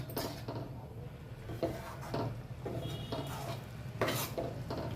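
Eggplant curry stirred in a metal pan with garam masala, a spoon scraping and clinking against the pan in irregular strokes over a steady low sizzle, close and fairly loud with no talk.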